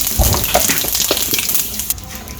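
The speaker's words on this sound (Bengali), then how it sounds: "এখন আর একটু কড়াই তেল দিয়ে দিলাম, জিরা দিয়ে দিলাম," Cumin seeds sizzle in hot oil in a wok, a dense crackling hiss with scattered pops that slowly settles toward the end.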